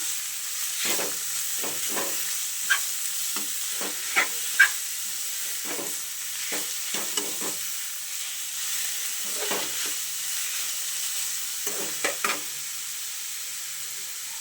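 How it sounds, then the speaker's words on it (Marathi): Grated bottle gourd roasts in ghee for a kheer, a faint sizzle beneath repeated soft scraping strokes of a spoon against the pan, with a few sharper taps and no voices. "आपल्याला हा तुपामध्ये भाजून घ्यायचा व्यवस्थित"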